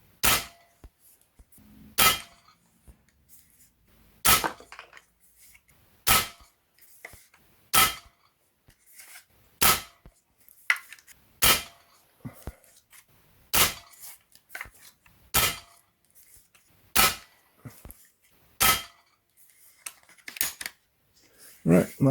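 A KralArms Puncher Empire X air rifle fires 15.89-grain pellets in a long series of sharp, loud cracks about every second and a half to two seconds, each followed by faint clicks of the action.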